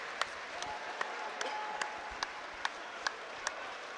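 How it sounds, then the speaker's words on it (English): A stadium crowd gives two boxers a standing ovation after an inter-services championship bout, a wash of distant, fairly faint applause punctuated by regular sharp, loud claps nearby. "A standing ovation from the whole of the stadium here to these two men who have just produced yet another outstanding contest"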